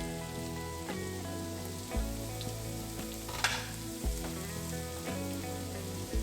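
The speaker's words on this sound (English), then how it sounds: "This is gonna cook for about 4 to 5 minutes until those veggies are nice and softened." Carrot, celery and onion sauté in hot butter and olive oil for an Italian wedding soup, a steady close sizzle with a few clinks of utensils against the pot.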